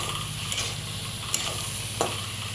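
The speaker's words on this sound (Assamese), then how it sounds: "এতিয়া ইয়াক অলপমান ভাজি লওঁ" Potatoes with sour leaves frying in a pan, a steady close sizzle with a few sharp stirring scrapes spaced across it.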